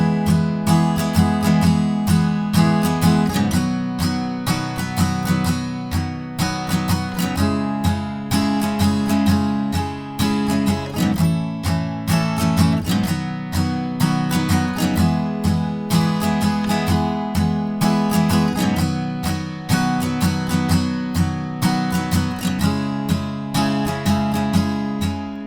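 Acoustic guitar strums the outro chords of a song, steady rhythmic strokes ringing close and loud without any voice for the whole stretch.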